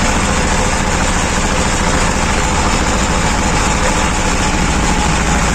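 A mini tractor engine runs steadily and loudly at about half throttle throughout, a continuous idling drone with no pauses and no talk.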